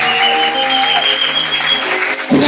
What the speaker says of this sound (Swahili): Pikia Yesu makofi kanisa.